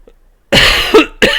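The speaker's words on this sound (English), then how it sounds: "Excuse me there as I cough." A man coughs twice in quick succession, close and loud, after a brief near-silent moment.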